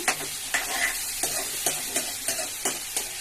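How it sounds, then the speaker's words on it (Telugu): Onion and green chili frying with ginger-garlic paste in a pan make a dense sizzle, with a regular stirring scrape about every half second, close and unaccompanied by talk. "మనం వేసే ఉల్లిపాయ పచ్చిమిర్చి కొంచెం వేగిన తర్వాత ఇందులో అల్లం వెల్లుల్లి పేస్ట్ వేసుకుందాము"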